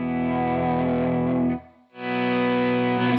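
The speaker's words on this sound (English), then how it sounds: "Sounds like a volume pedal." Guitar played through a lightweight volume pedal: a sustained distorted chord swells down to near silence, then a new chord rises back to full, loud and alone.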